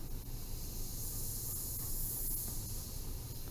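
An airbrush sprays black paint onto a Harley panel, giving a steady close airy hiss that runs unbroken through the whole stretch, with a few faint ticks.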